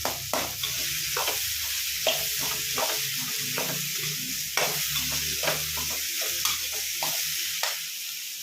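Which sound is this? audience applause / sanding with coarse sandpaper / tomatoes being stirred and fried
tomatoes being stirred and fried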